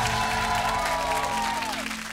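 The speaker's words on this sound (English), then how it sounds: "Give them both a round of applause." Audience applause for two school quiz teams at the end of a round, a steady, dense clapping that holds for about two seconds before thinning slightly, with music tones running underneath.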